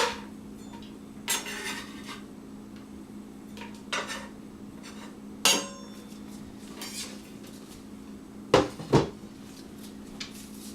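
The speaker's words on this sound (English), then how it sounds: "So I've got my boiling pot, and I'll just go ahead and put all of this onion right in there." Onion pieces clatter into a pot of boiling water in a kitchen, giving several sharp, separate knocks and clinks spread across about ten seconds over a steady low simmering hum.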